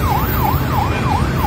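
An ambulance siren wails loud and continuous, its tone sweeping up and down in a fast regular cycle over road noise.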